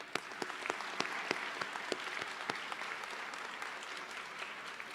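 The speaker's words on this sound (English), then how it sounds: "Clap for yourself." Graduates of the Springfield Conservatory of the Arts applaud themselves at their 2022 graduation ceremony, a steady wash of clapping from a large crowd with a few sharper nearby claps standing out, continuous for the whole stretch.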